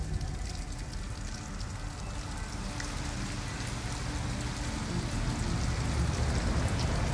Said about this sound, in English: It's raining, that's right.